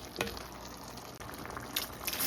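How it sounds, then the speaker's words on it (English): Water pours steadily into a pot of soup to make the broth, a continuous close splashing fill with a brief break partway through. "And then I'm gonna get some water in here now so that way I can make the actual broth."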